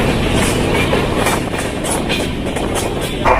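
Passenger train at New Delhi railway station, rumbling steadily with a clickety-clack of wheels on track, loud and close, without speech.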